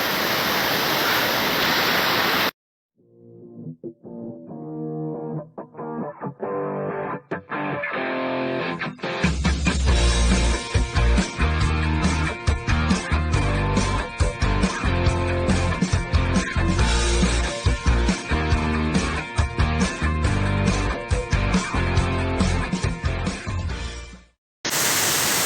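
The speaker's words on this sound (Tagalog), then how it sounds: "Now, this is the last falls that you are going to see here." Rushing water falls at a waterfall in Baler, a dense, steady roar that builds to a full, loud wash and holds before cutting off.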